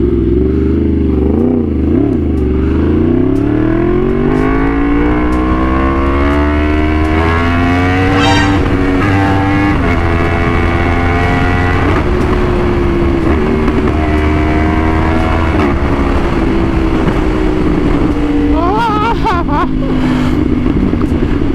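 Motorcycle engine revved hard, its droning pitch climbing steeply as the throttle twists open, then holding a loud, strained whine with brief surges and dips, continuous and close throughout.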